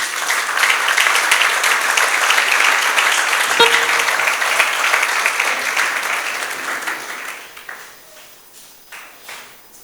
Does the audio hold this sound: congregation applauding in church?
yes